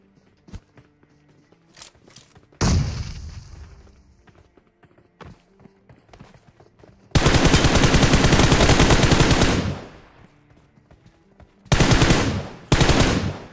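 Gunfire in the PUBG Mobile video game: a sustained automatic burst and several shorter loud bursts, with a single shot earlier and faint footsteps and small clicks between them.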